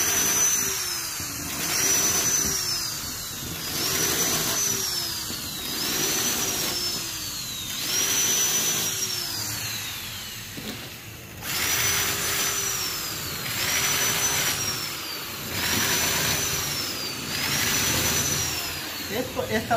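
A power drill fitted with a half-inch bit cuts into a new door panel. The motor whines in repeating cycles, dropping and recovering roughly every two and a half seconds, loud and close throughout.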